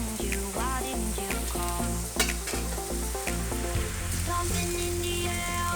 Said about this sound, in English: now I'm adding my garlic.